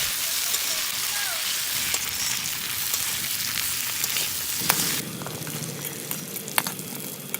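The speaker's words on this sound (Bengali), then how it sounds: "এবার সেই মাছ ভাজা তেলত ফোড়ন দিয়ে দিব।" Whole spices (cumin, cinnamon, cardamom and cloves) crackle and sizzle in hot oil left from frying fish, a steady close hiss with scattered pops that softens partway through.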